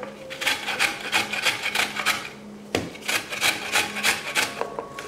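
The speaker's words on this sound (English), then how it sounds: "All right, I've peeled a carrot and now I'm just going to grate it." A peeled carrot is grated by hand in a home kitchen, giving a steady run of rhythmic rasping strokes, close and fairly loud, with a brief pause midway before the scraping resumes at the same pace.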